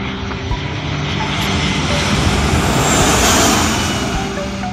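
A Bombardier turboprop airliner passes low over the riverbank beside Itami Airport, its propeller and engine roar loud and broad, swelling to a peak and holding with no voices.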